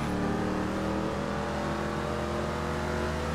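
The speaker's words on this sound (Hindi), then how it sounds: "इतनी प्यारी आवाज़ निकालती है यार ये गाड़ी" A Ford Mustang engine revs loudly and steadily in GTA 5 driving gameplay, a continuous close roar with a harmonic drone and no talk.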